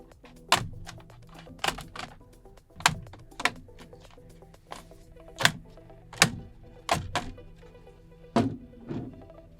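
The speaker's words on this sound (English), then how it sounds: "take a plastic pry and start to separate the top case from the bottom case" Plastic pry tool working apart the top and bottom cases of an ASUS Zephyrus GA502D laptop, giving a series of sharp plastic clicks and snaps at irregular intervals, close up with no talking.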